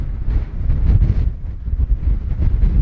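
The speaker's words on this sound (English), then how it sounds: "It is extremely windy" Strong wind at an Arizona trailhead buffets the microphone in a constant low roar with gusty surges, no voices, lasting the whole stretch.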